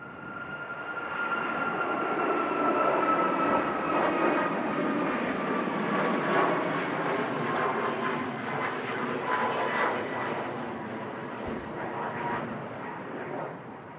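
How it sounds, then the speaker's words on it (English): A Ryanair jet on its departure takeoff roll at Manchester Airport, a loud, steady engine roar that swells and holds across the whole stretch, with a whining tone riding on top and gusty wind on the airfield. "Ryanair on the departure roll."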